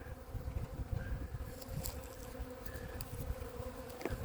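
Honeybees buzzing around a beehive, a close, continuous droning hum with individual bees passing by.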